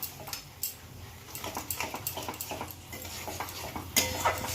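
A spoon scrapes and knocks through a pan of chhena kofta curry just after sour yogurt goes in, making rhythmic stirring strokes over a soft simmer, with a louder clink near the end. No one speaks.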